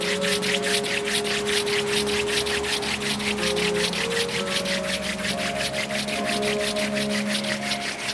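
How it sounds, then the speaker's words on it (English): Palms rubbing briskly together in a yoga class, a steady, rhythmic swishing friction held close and loud for the whole stretch, with soft background music tones underneath. "Finding that rubbing in between the hands"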